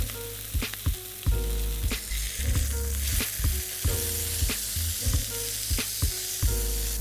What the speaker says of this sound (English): The burger's been cooking for about a minute on each side